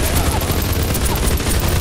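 Gunfire in the Minecraft-like video game Mini World, a dense, continuous barrage of rapid shots and booms that stays loud and unbroken throughout.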